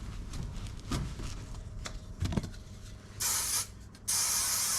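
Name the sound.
spray adhesive being sprayed onto carpet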